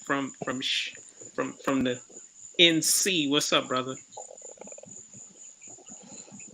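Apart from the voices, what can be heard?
crickets chirping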